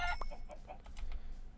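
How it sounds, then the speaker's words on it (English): A chicken in the Minecraft video game clucks in a few short, bright calls close by, with no talk over them. "There's a chicken."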